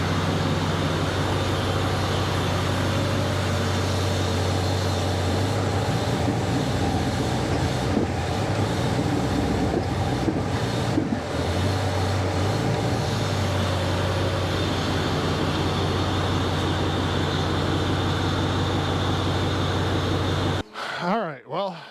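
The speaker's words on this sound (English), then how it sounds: "We're gonna go ahead and see what happens when we give it some throttle here." Engine of a 1994 Chevrolet Corvette C4 with a suspected knock-sensor fault, revving under throttle as a steady loud drone with rising surges mid-way, then cutting off abruptly near the end.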